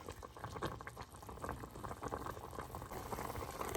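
A pot of Vietnamese braised pork ribs in caramel syrup bubbles at a low, steady boil, with a soft continuous gurgle and popping, close and quiet with no talking.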